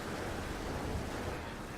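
Ocean waves in the video game No Man's Sky make a steady, broad wash of surf noise with no distinct breaks, heard alone for a brief stretch.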